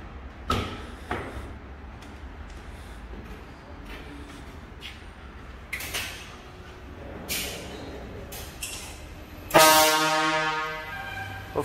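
A marine air horn with a 1/2 inch solenoid, fitted to a car, gives one loud blast near the end, preceded by quieter clunks and background noise at an outdoor gathering.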